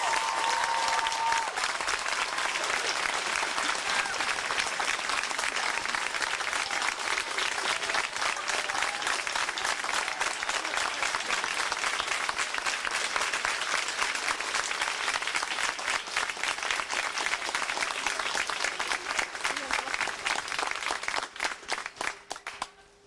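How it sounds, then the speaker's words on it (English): Graduation audience at a Yale commencement applauds parents and families, a dense, steady wash of many hands clapping that carries on loudly for over twenty seconds before tapering off at the end. "Please join me in applause for your parents."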